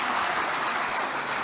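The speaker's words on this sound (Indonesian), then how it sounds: "Tepuk tangan yang keras." Brief burst of loud, dense applause from members in an Indonesian parliamentary hearing room, a continuous wash of many hands clapping with no voices over it.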